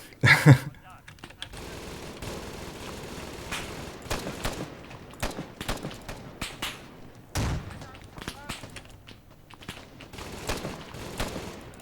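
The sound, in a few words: gunfire from a weapon in video game ARMA 3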